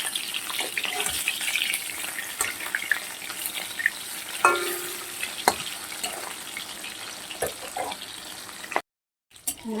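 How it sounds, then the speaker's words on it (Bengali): Pieces of katla fish frying in oil in a pan, a steady dense sizzle with occasional clicks and pops from turning the fish, no talking, cutting out briefly near the end. "মাছগুলো ভাজা হয়ে গেছে তুলে নিচ্ছি"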